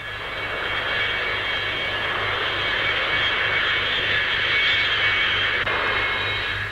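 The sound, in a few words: Vickers Supermarine Swift jet aircraft flying at an air show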